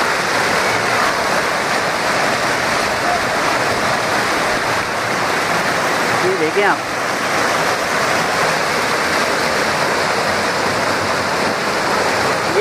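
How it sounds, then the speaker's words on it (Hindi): Floodwater pours steadily over a drain and spills into the streets of a Karachi neighbourhood, a loud continuous rushing like a waterfall, with someone briefly talking over it. "ये नाले के ऊपर से पानी बहकर आ रहा है।"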